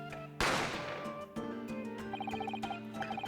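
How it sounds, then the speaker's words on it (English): A single gunshot sound effect from The Great Ace Attorney, a sharp loud blast that rings off quickly over soft background game music. "A gunshot rang out"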